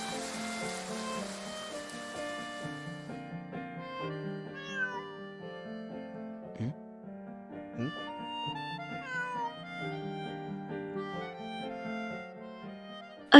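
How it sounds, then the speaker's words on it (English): A cat in a video game meows several times over soft, steady musical tones, each meow short and clear in the foreground. "A black cat had appeared in the rain."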